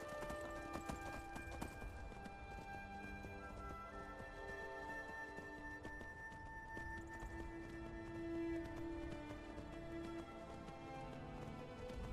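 Horse hooves clip-clop at a steady pace in the video game Skyrim, faint and low beneath sustained orchestral music.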